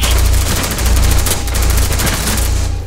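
Rapid automatic gunfire from a Rainbow Six Siege match, a loud continuous fusillade of close shots that rattles on for nearly three seconds before tapering off.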